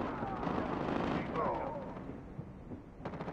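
Gunfire and explosions in the Call of Duty Mobile video game, a dense burst of rapid shots and booming blasts that fades, followed by a few sharper shots near the end, mixed with game voice lines.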